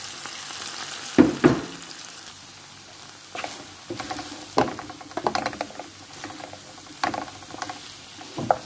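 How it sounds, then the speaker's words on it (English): Irish potato and fish go into a hot pan on the stove, giving scattered sizzles and stirring scrapes in irregular bursts at close range. "So now we're going to add in our Irish potato and fish."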